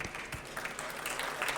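A faint, distant round of applause greets Patrice Petta, director of the Palm Hotel Spa, as he is called on stage at an environmental business awards ceremony. The brief, steady clapping has no voices.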